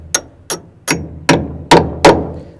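A hammer drives a carriage bolt into a wooden frame with six sharp, evenly spaced blows, close and loud, each ringing out briefly before the next.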